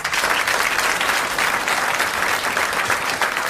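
Studio audience at a 1981 French television game show applauding steadily and loudly, a dense, continuous wash of clapping that holds at full strength throughout.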